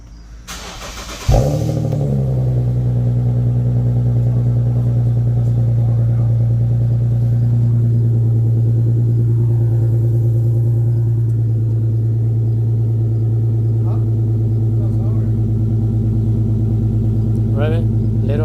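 An Infiniti Q50 fitted with a Remark axleback exhaust starts with a sharp bark, then settles into a loud, steady deep rumble with light revving, recorded up close while people talk over it.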